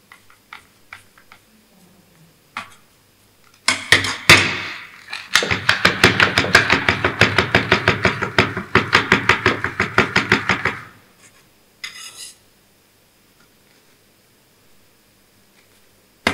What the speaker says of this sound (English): We will strike off the excess cement from the mold.